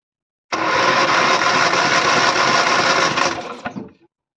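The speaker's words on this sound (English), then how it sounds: "The readings can vary depending on how much you spin the engine" A Morris Minor engine is cranked over by the starter for a hot compression test, giving a loud, steady mechanical whirring for about three seconds before it winds down and stops, with no talk.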